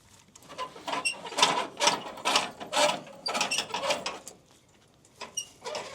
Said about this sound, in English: Jack this one all the way up.